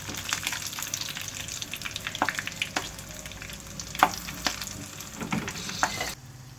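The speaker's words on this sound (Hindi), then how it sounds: "अब इसमें हम थोड़ी सी हरी मिर्चें शामिल कर देंगे, ये भी अच्छे से फ्राई हो जाएंगे" Green chillies frying in a pan with browned onions, a close, lively sizzle broken by sharp crackles and pops, ending abruptly.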